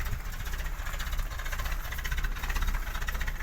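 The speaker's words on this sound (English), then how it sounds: "Sounds really sweet, that engine there, Cameron." A balanced engine in a 1957 Land Rover Series 1 107 station wagon runs steadily at idle, giving a close, even low rumble with a faint mechanical clatter and no voices.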